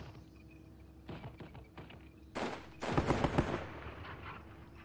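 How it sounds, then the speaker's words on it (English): Rifle gunfire in the Squad Battles war video game: scattered single shots build into a dense, loud volley of overlapping cracks and bursts, fairly close, with no talking. "Why are they firing just with the rifles there?"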